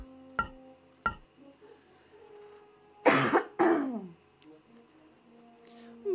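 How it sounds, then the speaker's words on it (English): A person coughs twice in quick succession, close and fairly loud, after a couple of sharp clicks, with quiet game sounds in the background. "Sorry for my cough, it's so annoying."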